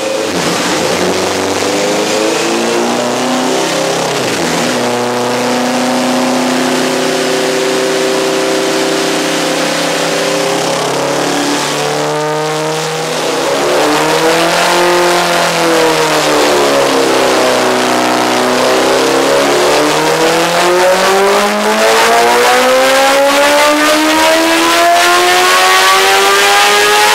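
Honda CBR1000 sport bike from 2008 fitted with a Racetune exhaust, running power pulls on a dyno: a loud, continuous engine that climbs and falls in pitch through repeated sweeping revs, with no pause or voices.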